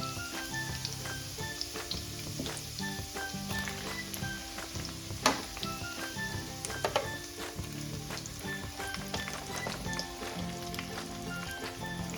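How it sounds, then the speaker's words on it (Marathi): Stuffed okra hits hot oil with garlic in a pan, giving a steady, close crackling sizzle with small pops and occasional utensil taps, no voices. "आता आपण ही जी भेंडी आहे ती आपण ह्यामध्ये सोडून द्यायची।"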